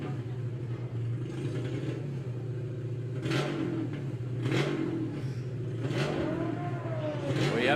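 Yellow Audi TT and VW Beetle launch side by side in a Volkswagen drag race at Santa Pod, engines revving and roaring loud and close with a steady low rumble and sharp bursts of acceleration.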